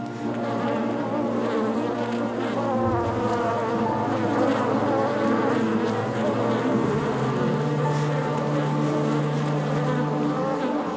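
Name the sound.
bees buzzing around beehives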